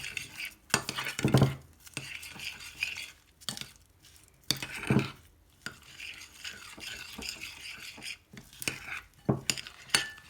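Homemade crunchy slime ingredients are stirred together in a bowl, making intermittent scraping and squishing strokes in irregular bursts, fairly quiet and close, with no voices.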